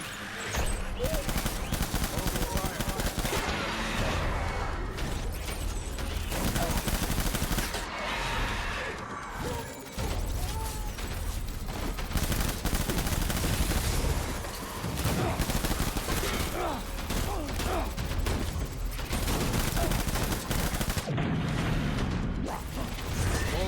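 Shotgun fire and rattling mechanical weapon sounds in the video game Death Stranding 2, dense bursts of loud shots and clanking mixed with game music and effects throughout.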